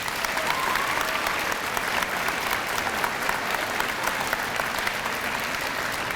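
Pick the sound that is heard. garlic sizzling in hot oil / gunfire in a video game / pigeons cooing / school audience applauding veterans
school audience applauding veterans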